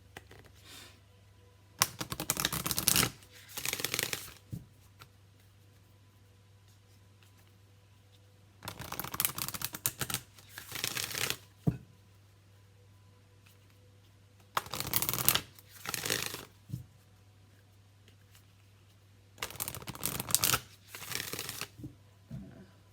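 Someone shuffles a Work Your Light oracle card deck close by, in four separate bursts of crisp riffling and slapping spaced by short quiet pauses, with no talking.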